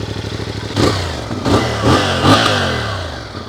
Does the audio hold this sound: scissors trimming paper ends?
no